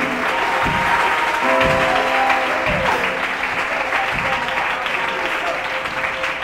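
A church congregation at a night vigil bursts into sustained, loud applause, steady clapping from a large crowd filling the whole stretch, with some voices mixed in.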